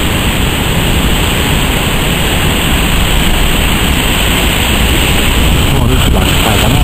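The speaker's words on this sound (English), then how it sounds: "These sort of waves. Here comes some monumental sets." Ocean waves break continuously at a river mouth in rough weather, a loud, steady roar of surf that holds for the whole stretch with no letup.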